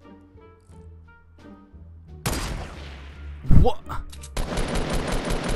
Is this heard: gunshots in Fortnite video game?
yes